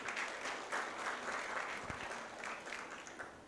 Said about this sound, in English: Ladies and gentlemen, a bigger round of applause for Engineer Abigail.